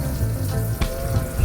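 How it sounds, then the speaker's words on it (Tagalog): Water pours into a cooking pot of bulalo, a loud, close, continuous splashing gush with a brief sharper splash midway. "Lagyan natin ng tubig"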